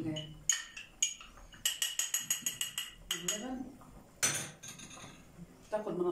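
A metal spoon scrapes and clinks against a pot as starch is stirred into milk and wheat, giving a rapid run of bright clatters and taps with short pauses between bursts.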